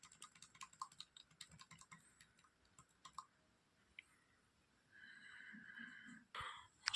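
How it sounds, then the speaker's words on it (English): A laptop key, F2, is tapped rapidly and repeatedly at close range, giving a quick run of light plastic clicks that thins out to a few scattered taps, followed by a soft electronic hum and faint rustle. "let me press F2 continuously"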